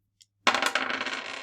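Two dice dropped onto a classroom table: a tiny tick, then a sharp clatter that rattles and tumbles on for about a second before settling, heard alone and close.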